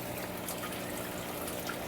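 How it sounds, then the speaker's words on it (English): Water trickling and splashing down into the sump of a home aquarium fish room, a continuous close, even hiss and gurgle with no pauses and no voices. "water flows down into the sump"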